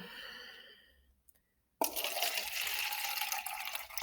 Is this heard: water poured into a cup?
yes